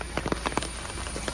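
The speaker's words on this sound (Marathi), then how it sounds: "खूप पाऊस पडतोय" Heavy rain falling in the Matheran hills, dense close patter on surfaces with irregular louder drops over a constant wash, no one speaking.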